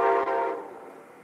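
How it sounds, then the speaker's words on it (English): A distant train rumbles past with a faint horn-like tone that fades quickly. "As again the train coming by."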